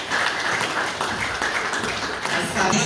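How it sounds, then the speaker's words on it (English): Dense, steady audience applause fills a hall at an awards ceremony and lecture event, continuous and fairly loud throughout with a faint murmur of voices underneath. "let's give God a round of applause"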